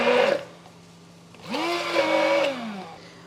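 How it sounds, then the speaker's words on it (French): A blender whirs through a creamy aubergine caviar with ricotta, one short burst followed by a longer run of about a second, its motor pitch sliding upward and then dropping back as it winds down. "Et on va mixer tout ça"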